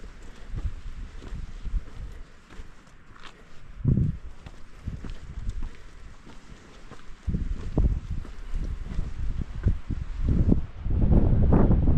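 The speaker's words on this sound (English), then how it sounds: "Ooh, definitely windy." Steady gusty wind rushing and buffeting the microphone on the Appalachian Trail, with rustling and scuffing sounds, growing louder and rougher toward the end.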